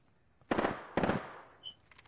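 Two sharp, heavy shots from a G7 Scout marksman rifle in Apex Legends, spaced about half a second apart with echoing tails, followed by a faint high electronic ping.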